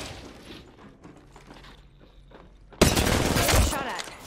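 Gunfire in a multiplayer shooter video game: muffled shots and game noise give way to a sudden loud, dense burst of rapid fire from incoming attacks that continues to the end.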